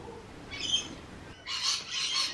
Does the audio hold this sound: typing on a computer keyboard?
no